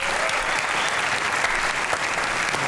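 Loud, sustained studio audience applause on a comedy talk show, a thick, even wash of clapping with no pause and no voices over it.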